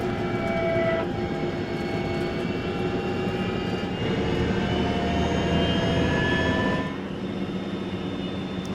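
A sports car prototype's engine gives a loud, steady roar with high whining tones that rise and fall throughout, heard alone without talking.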